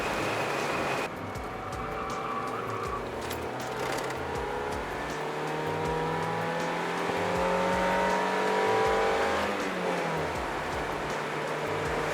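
Interior drone of a 90-horsepower car cruising at 100 km/h on a shaky ride, a steady engine hum with rising and falling tones and road rumble throughout, no talking.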